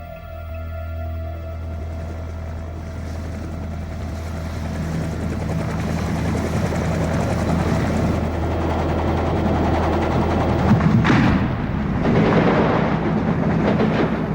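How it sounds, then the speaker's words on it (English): A deep, rumbling military helicopter rotor drone grows steadily louder and fills the air, with a heavy thump of noise near the end. "Helicopters approaching."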